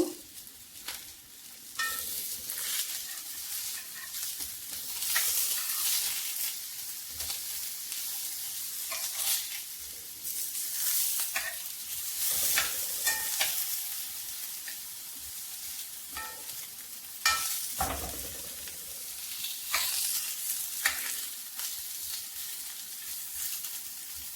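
Eggplant slices fry in hot oil for a shrimp dish, giving a steady crackling sizzle broken by sharp scraping and clinking bursts as a spatula flips and turns them in the pan.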